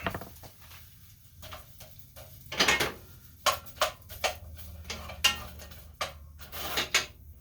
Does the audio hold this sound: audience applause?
no